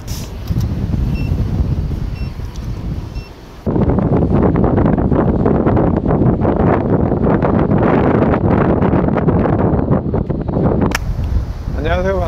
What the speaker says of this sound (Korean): 오늘 공평왕에 바람이 매우 강한 것 같아요.